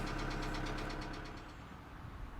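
A 2008 Kia Sedona 2.9 CRDi diesel engine with a bad knock idles, with a fast, regular metallic tapping over a steady engine drone, heard fairly close.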